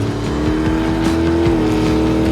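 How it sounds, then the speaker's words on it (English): A 1965 Dodge Coronet with altered wheelbase and a 528 cubic inch Hemi idles close by, a loud, steady low rumble with a lopey, choppy pulse and no revving. "This is a 1965 Dodge Coronet, altered wheelbase. It runs a 528 cubic inch Hemi with a 727 trans."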